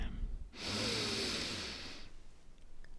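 One long, slow breath drawn in through the nose during a relaxation exercise, a soft airy rush lasting about a second and a half, close and alone in a quiet room.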